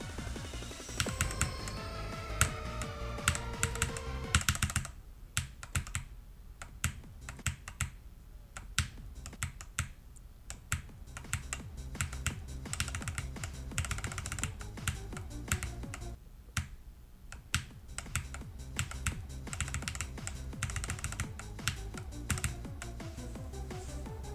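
Rapid keyboard clicking during a Geometry Dash session, a dense, continuous stream of sharp taps and bursts, close and steady for over twenty seconds with no talking.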